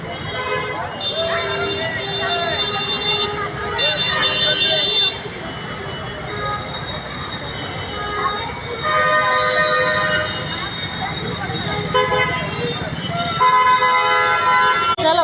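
Ambulance siren sounding through crowded street traffic near a school, with horns tooting and tonal wails rising over continuous traffic noise and voices, fairly loud throughout.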